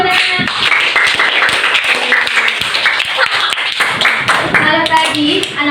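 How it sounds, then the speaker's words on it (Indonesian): Sustained clapping from a school class fills the room, dense and steady, with a few voices speaking over it. "kasih tepuk tangan dulu buat anak"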